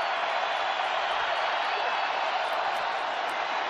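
A stadium crowd at a Denver football game: a dense, constant roar of cheering voices from many people, steady and unbroken throughout, heard from a distance.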